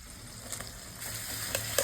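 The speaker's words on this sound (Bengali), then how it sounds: "ক্যাপসিকামটা দেবো তেলের উপর" Capsicum hitting hot oil in a home kitchen pan, giving a steady close sizzle with faint crackles and a few small stirring clicks.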